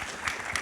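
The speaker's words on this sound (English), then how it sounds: "So I think first a big round of applause." Audience applause at a panel discussion on renewable energy, heard as a brief burst of scattered clapping, moderately faint and distant in a large hall.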